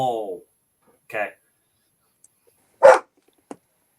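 A dog gives a few short barks and yips, separated by pauses, set against a quiet room with brief voice sounds.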